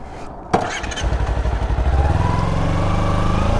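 A Kawasaki Ninja 300 motorcycle is ridden nearby, a sharp bump followed by the engine's steady, loud drone that builds in a quick pulsing rhythm and then holds a continuous revving hum.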